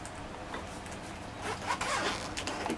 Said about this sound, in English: There is the zipper.